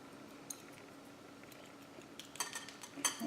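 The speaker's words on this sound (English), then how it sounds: "I'm going to use a small spoon like this, so which makes it easier to fill it in." A small spoon clinks faintly while scooping herbal powder into capsules, quiet scattered scrapes early, then a few sharper metallic taps near the end.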